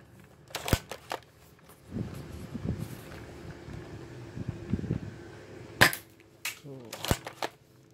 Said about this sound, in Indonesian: Akan tes tembak dengan sasaran yang ada